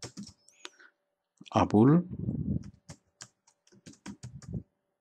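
Quick, light keystrokes on a computer keyboard while a product caption is typed, close and crisp, following a brief spoken word.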